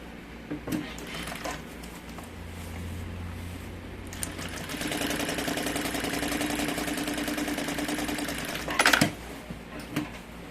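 A sewing machine stitches the loose side of a large changing-bag's lining, a steady mid-pitched mechanical whir running several seconds with short pauses and handling noises around it.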